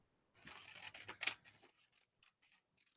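A plastic bag is snipped with scissors at close range, with a few crisp cuts and rustles up front and sparse small clicks trailing off into quiet.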